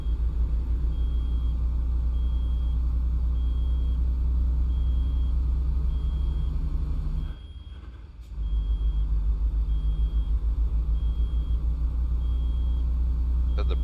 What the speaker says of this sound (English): If you're hearing a constant beep beep, you have low air.